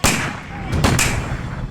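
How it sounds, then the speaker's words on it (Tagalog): Several sharp gunshots from armed men crack close together near a seaweed farmers' boat off Balabac, Palawan: a loud report followed by two quick shots, with ongoing rumble and noise in between. "Padaong na po kami, nagpaputok po sila ulit ng baril."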